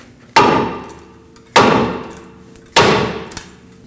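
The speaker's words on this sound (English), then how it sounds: "use a hammer right in between the lug studs, and that should hopefully break it free" A hammer strikes a seized front brake rotor between the lug studs on a Nissan Frontier pickup, giving three loud metallic blows evenly spaced about a second apart, each with a ringing decay and no talk.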